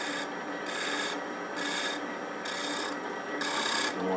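A tool tip scraping a wooden picture frame turning on a lathe, giving rhythmic rasping strokes about twice a second, close and steady with no voices.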